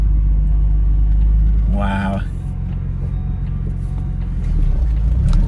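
A BMW E36 car's engine idles with a deep, steady low rumble close by, while a person speaks briefly over the running motor.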